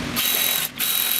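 Power ratchet spinning a bolt on a 2015 Toyota Tundra transmission, a close, loud whirring ratchet in two quick runs split by a brief pause.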